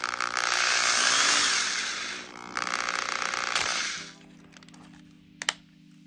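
A power drill whirs loudly and steadily for several seconds boring a hole in plastic, then stops, leaving quieter handling noises and a sharp click.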